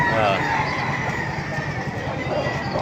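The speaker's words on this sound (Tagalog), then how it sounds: "Maraming manok dito." Chickens and fighting roosters crow and cluck at close range for a few seconds, with steady background noise throughout.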